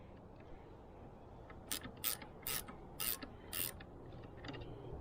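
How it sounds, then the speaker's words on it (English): Ratchet wrench loosening a bolt on the end of a SeaStar hydraulic boat steering shaft, several quick separate bursts of clicking at close range in a quiet space, with no talk. "now we're gonna take this bolt off the end of the shaft here."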